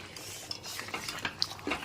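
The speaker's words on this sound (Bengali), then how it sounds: "এখানে চিকেন কষাও হচ্ছে" Chicken stir-fried in a big kadai, with a ladle scraping and clinking against the metal pan in quick, uneven strokes, close by and fairly quiet.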